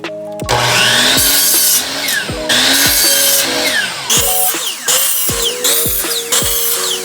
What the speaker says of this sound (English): cut them on my miter saw